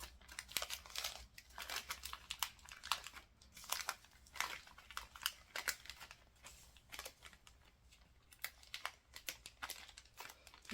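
Plastic packaging crinkles and rustles in irregular bursts while a piece of a weighted vest is wrapped, close and faint, with short pauses between handling noises and no speech.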